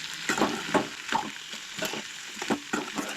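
Cabbage is stirred and fried in a pan for a Goan-style vegetable dish. Bursts of sizzling come with repeated, rhythmic scrapes of stirring, close and clear, with no talking.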